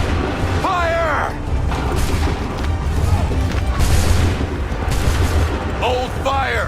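Musket volley firing in an Assassin's Creed III battle, heavy booming shots and crashes amid battlefield din, with voices shouting over the gunfire.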